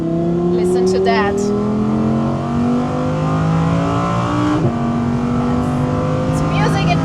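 An Audi R8 V10 engine revs and roars steadily, pitch rising and falling through gear changes, loud and close, with a voice speaking faintly over it.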